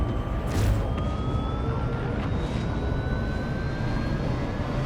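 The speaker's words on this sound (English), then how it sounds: "Sounds like a jet engine." Star Citizen spaceship engines starting up in the video game, a loud, steady jet-like roar with rising whining tones that holds throughout.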